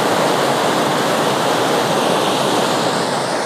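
Fast-flowing river water rushes in a loud, unbroken roar, close and steady throughout.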